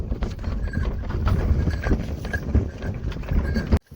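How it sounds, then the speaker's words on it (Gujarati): Bullocks pull a cart along a dusty dirt road, their hooves thudding in a steady clip-clop close by, with cart rattle and faint background voices. "બળદ હાલી રહ્યા છે દોડની ડમરી ઉડાડી રહ્યા છે અને ખાલી પાવાનો અવાજ જુઓ"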